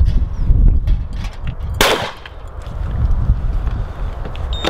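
One sharp shotgun blast rings out at a clay shoot, with the shooter taking left-to-right blaze and rabbit targets. Wind noise and outdoor rumble fill the rest of the stretch.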